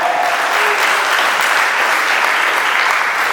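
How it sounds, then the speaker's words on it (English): Sustained applause from a convention audience, dense and steady, clapping continuously at an even level without any voices rising above it. "Also, give a round of applause."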